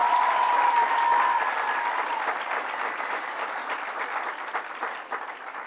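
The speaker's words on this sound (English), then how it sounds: "Let's give her a big round of applause." An audience applauds steadily at an after-school programs funding announcement, a dense sustained clapping from a crowd that fades slightly toward the end.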